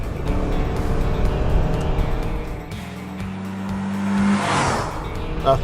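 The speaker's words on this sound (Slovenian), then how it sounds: "Menjalnik Lineartronic, to je CVT." A 2018 Subaru Forester 2.0i AWD engine with Lineartronic CVT drones steadily under acceleration, its pitch holding level and then rising smoothly in a continuous whine with no gear shifts.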